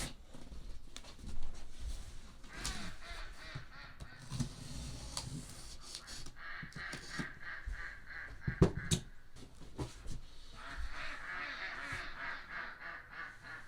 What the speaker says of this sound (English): The ducks are laughing at us.